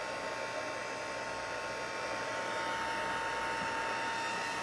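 A heat tool runs with a steady, even blowing hiss for several seconds as it dries puffy paint on a Santa Christmas card, close and unbroken with no talking.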